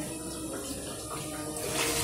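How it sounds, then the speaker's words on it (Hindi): Water runs steadily from a kitchen sink tap nozzle, a close continuous hiss and splash with no talk. "पानी जस्ट सेंटर से आएगा"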